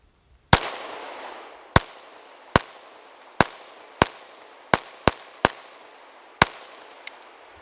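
Volquartsen Scorpion .22 WMR pistol firing 50-grain rounds, about ten sharp, loud shots spaced roughly a second apart with a short gap near the end, each leaving a brief ringing decay.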